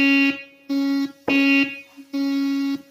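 Sustained keyboard notes on a Roland XPS30, four separate held tones with bright harmonics, each lasting about half a second, played alone with short gaps between them.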